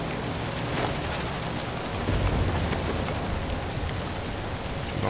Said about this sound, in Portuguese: o barulho da chuva deve estar muito alto